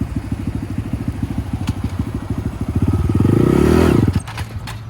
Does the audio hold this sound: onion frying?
no